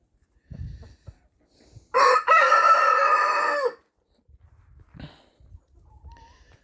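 A close, loud rooster crow rings out from a backyard flock of chickens, framed by softer clucks and scratching before and after.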